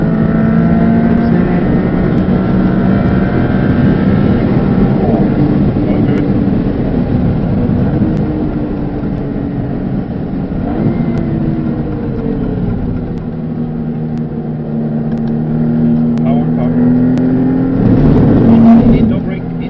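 A 630 bhp rear-wheel-drive Maserati MC20 with twin turbos, fitted with Bridgestone Potenza race tyres, driving on a track: loud, steady engine drone heard from inside, rising and falling in pitch with gear changes and throttle.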